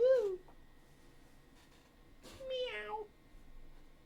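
A pet cat named Molly gives two close, clear meows, a short one at the start and a longer drawn-out one a couple of seconds later, with quiet room sound between.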